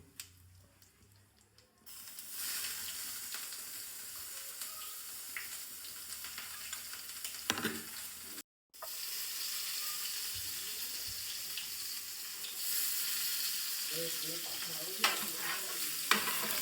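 Asafoetida and sliced dried onion fry in a pan for paneer curry. A hushed start gives way to a steady close sizzle with occasional stirring scrapes, a brief cut of silence midway, and a louder crackle toward the end, with no speech.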